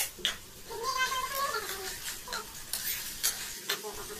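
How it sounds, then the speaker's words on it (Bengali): Chopped tomato, about half a cup, is stirred into spice paste that has released its oil in a pan for a vegetarian fig curry, giving soft scraping strokes over a gentle sizzle, with a faint meow-like tone. "টমেটোটা ভালো মতো মিশে যাওয়া পর্যন্ত এটা নাড়াচাড়া করতে হবে।"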